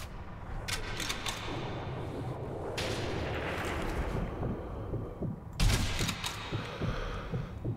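Shots in Sniper Elite V2 boom heavily at a steady distance, with a dense rumble of battle noise underneath and a louder burst near the end.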